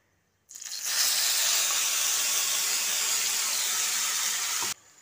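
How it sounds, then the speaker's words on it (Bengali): Tomato-ginger paste hits hot spice tempering in a pan for a vegetarian paneer curry and gives a sudden, loud, steady hiss of sizzling that keeps going for several seconds and then cuts off sharply. "এর মধ্যে যে টমেটো আদার পেস্টটা তৈরি করে নিয়েছিলাম সেটা এখানে দিয়ে দিচ্ছি"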